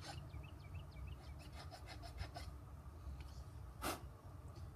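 A sanding block rasps against the wood of a hand-carved slingshot in short, quiet rubbing strokes, faint and close, with one sharper scrape near the end and no talk.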